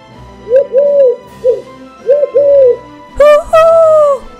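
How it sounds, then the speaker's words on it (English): An owl hooting in a children's animated storybook: two pairs of loud, close, smooth hoo-hoo calls, then a higher, brighter double hoot at the end, with quiet gaps between and no talking. "Woohoo! Asked the owl."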